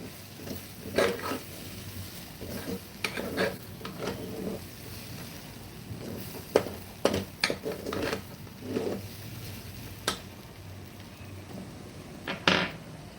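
A spoon scrapes and taps against a pot as rajma rice ingredients are sautéed, giving scattered knocks and stirring scrapes at close range over a faint background hiss, with no one talking.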